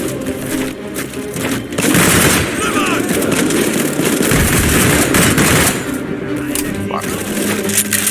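Sustained machine-gun fire in the war video game Land of War, a loud continuous rattling burst of rapid shots dominating the middle of the stretch, with game ambience and distant firing before and after.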